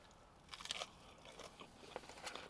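Bites into a crunchy fried fish patty seasoned with lemon pepper, from a Wegmans prepared meal; a few quiet, close crunches with crackly chewing, no talking.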